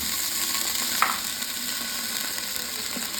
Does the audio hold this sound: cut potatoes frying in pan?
yes